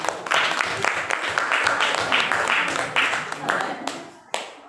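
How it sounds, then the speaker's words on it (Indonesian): Students in a classroom clap for a group that has just presented, brisk uneven clapping with voices mixed in that tapers off toward the end. "Kita berikan tepuk tangan untuk kelompok bunga mawar."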